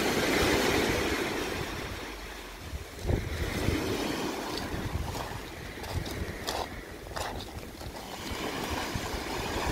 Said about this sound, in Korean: 파도 소리를 들어보세요.